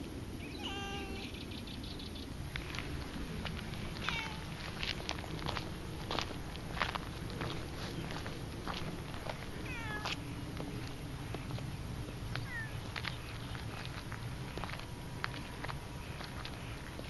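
Cat meowing beside a fishing spot where largemouth bass were caught, repeated short calls close by over steady outdoor ambience with faint birdsong and footsteps, no talking.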